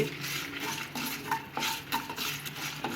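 Dried red chillies fry in a pan while being stirred, soft scraping strokes of a spoon against the metal over a faint, quiet sizzle, close up and without speech.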